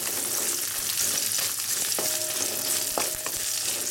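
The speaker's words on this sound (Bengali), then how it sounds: "আলুগুলো তেলে দেবার পর ভালো করে নাড়াচাড়া করে" Cut potatoes fry in hot oil with a continuous loud sizzle while being stirred, with a few faint utensil scrapes and no voices.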